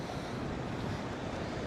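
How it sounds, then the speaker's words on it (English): Steady gusty wind roars across the microphone on Manhattan's west side in New York City during a snowy March day, a continuous loud broadband rush with no speech. "Ooh, really windy here on the west side here."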